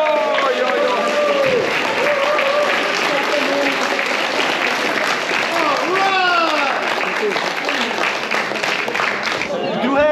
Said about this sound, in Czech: Rašek Staněk, zatleskejte mu.